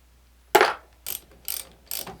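A socket ratchet works on a mower battery terminal of a Hustler Raptor mower, making one sharp metallic click followed by three shorter, evenly spaced ratcheting bursts, close and alone.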